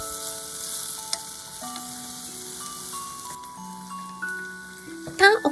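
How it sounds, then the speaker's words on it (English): Fried spinach with salt and sesame seeds is stirred in a pan with light scraping and a soft sizzle. Steady background music plays under it, and a few sharper clatters come near the end. "add your favorite amount of sesame seed and mix them"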